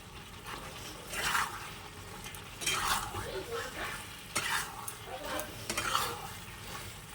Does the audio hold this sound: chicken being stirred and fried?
yes